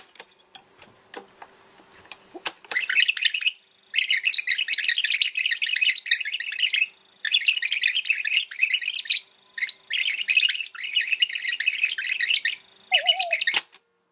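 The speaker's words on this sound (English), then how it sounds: "That tone right there, those index tones are all we have to go on when it comes to navigating these audio tapes" A C-1 cassette book machine rewinds an audio tape, and its index tones play as a long run of rapid, high, chirping warbles in bursts separated by brief gaps, after a few sharp mechanical clicks at the start.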